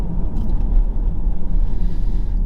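A Mercedes-Benz E220 4WD with a torque converter fault that caused shuddering while driving, on a test drive. A steady, loud, low cabin rumble with no voices.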